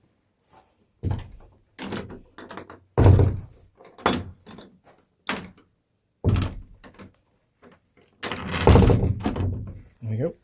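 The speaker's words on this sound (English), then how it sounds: "make sure the door's shut so the pigeons are getting in" A heavy wooden door on a small country church is closed with several thuds and creaks, interspersed with short bursts of nearby talking.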